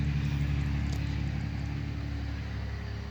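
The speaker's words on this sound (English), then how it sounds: "Everybody driving around with huge trucks." Large trucks drive past outdoors in Fort Worth, heard as a continuous low rumble of traffic that swells early and slowly fades, steady and moderately loud with no voices.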